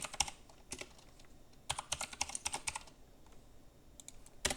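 Fingers type on a computer keyboard in quick, irregular bursts of crisp clicks, with short pauses between clusters of keystrokes, close and fairly quiet against a low background hiss.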